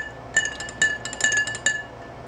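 A spoon stirs powder into orange juice in a glass, giving a quick series of bright, close clinks against the glass over a couple of seconds, with no talking.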